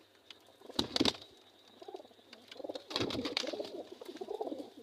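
Pigeons, including hens and cocks kept in a loft, coo softly in low, rolling phrases. Short bursts of wing flapping or handling noise break in near the start and middle, and the cooing returns quietly afterward.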